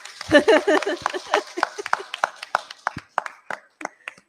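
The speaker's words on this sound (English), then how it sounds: "He has to get a louder round of applause like everybody else." At a Sunday morning satsang, members of the congregation clap in a thin, uneven round of applause, a scattering of separate sharp claps that thins toward the end, with voices talking over the start.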